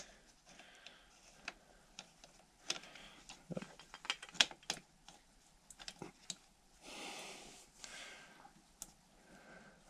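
Screws being tightened while assembling a carburetor intake, heard as a series of close, dry metallic clicks and ratcheting ticks with small scrapes and pauses between turns.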